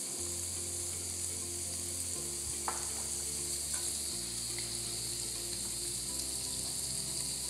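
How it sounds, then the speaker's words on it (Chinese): Pineapple slices pan-fry in a hot pan with a continuous close sizzle, broken by a few faint clicks and scrapes from stirring or turning. "等佢兩邊都煎到轉咗色咧"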